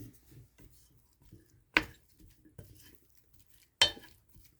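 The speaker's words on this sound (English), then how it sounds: "I'm going to stir it in now" Barbecue sauce stirred into pulled chicken in a pot or pan, heard as a few scraping, clattering strokes of a utensil, two of them sharp and loud, separated by quieter rubbing and soft handling noises.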